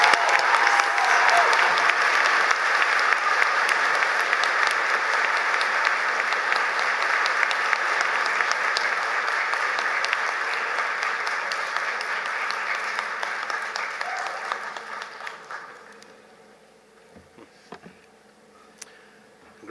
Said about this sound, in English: Please join me in congratulating this honor with a well-deserved round of applause.